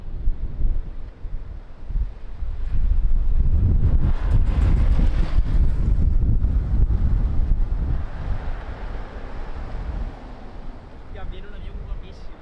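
Strong northerly wind gusting around 22 knots at Lisbon Airport, roaring across the microphone in heavy broadband buffeting that swells in the middle and then eases, with faint tower radio talk underneath.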